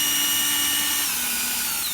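An impact gun spins a socket on a 2.4L Ecotec car engine during a timing chain job, a steady high-pitched whirring power-tool whine held close and loud for the whole moment.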